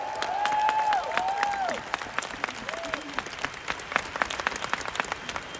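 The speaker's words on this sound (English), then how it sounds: "Can we give Riway a round of applause today?" An audience at a business seminar breaks into a round of applause, close and fairly loud. A sung or tonal voice sounds briefly at the start, and the clapping thins into scattered, uneven claps.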